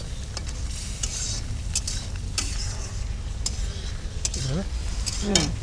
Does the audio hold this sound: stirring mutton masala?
yes